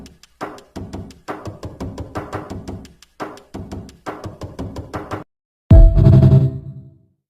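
Drum kit built from Minecraft video game door sounds, heard as a rhythmic pattern of short knocking, clacking hits in a steady groove for about five seconds, then a brief pause and a single loud, booming bass-heavy hit.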